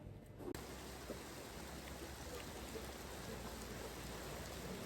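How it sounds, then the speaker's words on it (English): Steady rain falls on an island in Thailand, a dense even hiss of drops on surfaces that carries on without pause after a brief click at the start, with no one speaking. "Rainy day on the island."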